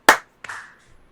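A group of people clap together on a count, giving one sharp, close clap burst followed by a second, softer clap that trails off into quiet.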